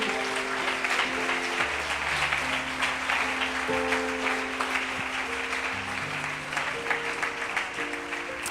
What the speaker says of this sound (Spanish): déle ese aplauso al Señor